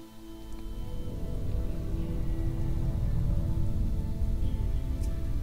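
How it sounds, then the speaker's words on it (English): Steady rain in the survival video game Sheltered, a continuous low wash of falling water that holds constant throughout with no voices. "Day 7 and it's raining!"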